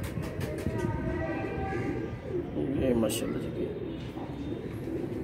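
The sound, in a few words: golden pigeons cooing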